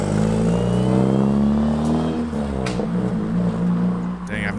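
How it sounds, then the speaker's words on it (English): A Mazda RX-7 FD drives past at close range with a steady, droning engine tone and a slight rise in revs, while people talk over the sound. "So right now he's just driving to get all the brake dust off."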